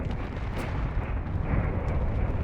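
Heavy artillery fire in Space Engineers rumbles as a continuous low, dense roar with rough, crackling texture, steady and loud without speech.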